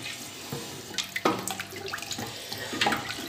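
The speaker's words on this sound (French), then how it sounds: "Donc après avoir ajouté de l'eau, vous goûtez l'assaisonnement" Water runs and splashes into a cooking pot for Cameroonian peanut and okra sauce, irregular pouring and trickling with small drips, fairly quiet and close.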